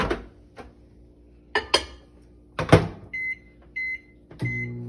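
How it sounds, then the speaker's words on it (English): A microwave oven heating a cup of sugar water runs with a steady hum, then gives a few short beeps near the end, with clattering handling knocks before it. "place the cup for 30 seconds in the microwave so the sugar has time to melt"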